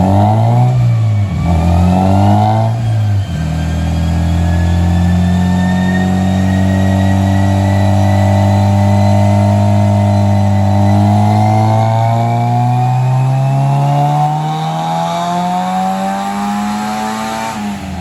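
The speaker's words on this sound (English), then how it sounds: "we're going to load up in the Cummins and head down the interstate" Cummins diesel truck driving on the interstate, with a loud, steady engine drone whose pitch rises and falls through gear changes, heard alone without talking.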